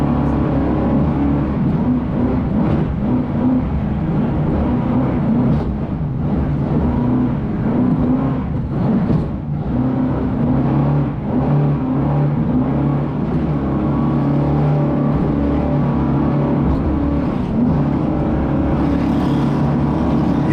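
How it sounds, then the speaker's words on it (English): Powerful offshore racing powerboat engines roar continuously nearby, heard through a boat canopy's air ducts, a loud steady drone with slight rises in pitch and no clear speech. "you can actually hear their engines coming in through our air ducts on the side of the canopy"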